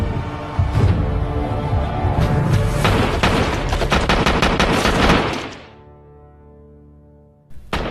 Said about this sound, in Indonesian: muncul Sonny yang langsung menembaknya bertubi-tubi sampai ia maut saat itu juga